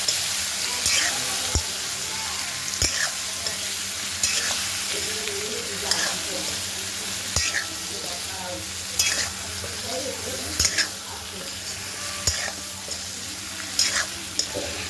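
Stuffed brinjal with masala sautés in a pan with a steady sizzle, while a spatula stirs and knocks the pan in repeated scraping strokes and sharp taps.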